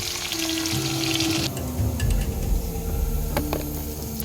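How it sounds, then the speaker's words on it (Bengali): Pakoras frying in oil at a jungle night camp cooking setup, a continuous hiss and crackle of sizzling batter with a few sharp pops and clinks, close and moderately loud. "তো ফাইনালি আমাদের পকোড়া ভাজা কমপ্লিট"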